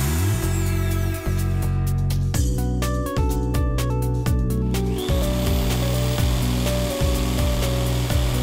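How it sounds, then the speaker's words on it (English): A power saw cuts a rectangular opening in a wall for a single gang electrical junction box, with whining bursts of sawing broken by brief pauses and restarts, loud and close. "Make a rectangular hole in the wall to mount a standard single gang electrical junction box"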